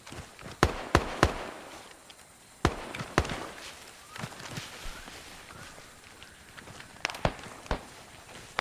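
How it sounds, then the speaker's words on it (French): Mortar fire in the ArmA 3 military game: sharp booming impacts and launches, a pair near the start, another pair near three seconds and more later, set against a low rumbling battlefield background. "on entend bien le mortier là"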